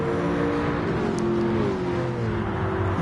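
A race car engine in a PS4 racing game revs steadily and loudly, its droning pitch sliding gradually downward as the car holds speed, with no talking over it.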